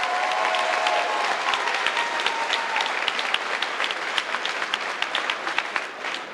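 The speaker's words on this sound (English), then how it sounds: "how about a round of applause to Miss Church" A school audience applauds at an eighth grade middle school promotion ceremony, steady dense clapping filling the hall for the whole stretch with a few sharper claps near the end and a faint voice at the start.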